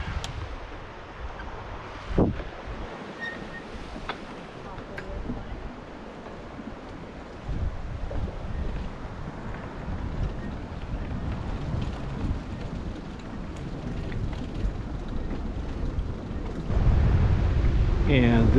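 Sandy Creek on the Sandy Creek Trail near Franklin, Pennsylvania, running under a bridge: a steady broadband rush of flowing water, fairly close, with a brief knock early on and the wash swelling louder toward the end.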